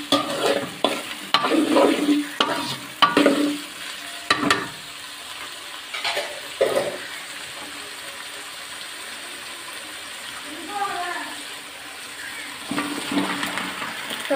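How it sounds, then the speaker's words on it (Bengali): Vegetables go into a pan with prawns and are stirred and fried, with a scraping clatter of a spatula and a sizzling hiss. Several loud stirring strokes come early, then quieter frying, and the stirring picks up again at the end. "সবজিগুলো দিয়ে দিলাম"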